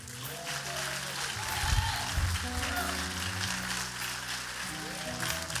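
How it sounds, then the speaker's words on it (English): A church congregation claps hands together in a steady, dense patter, mixed with voices and sustained musical tones underneath. "Clap your hands for the word."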